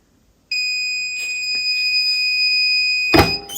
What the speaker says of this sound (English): we are getting very close here, and it should beep